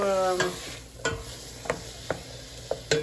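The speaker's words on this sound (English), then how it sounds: "And just let these saute." Oregano and salt sautéing in a hot pan give a soft sizzle, broken by about six sharp scrapes of a spoon stirring against the pan at irregular intervals.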